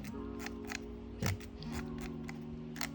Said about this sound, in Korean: 셔터를 눌러주시면 촬영이 됩니다